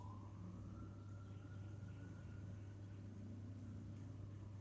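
Faint, distant siren rising in pitch over a steady low hum of traffic, quiet and far off.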